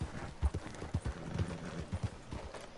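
Horse hooves clip-clop in the Red Dead Redemption 2 video game, a steady walking rhythm of soft thuds repeating about twice a second, fairly quiet against faint background ambience.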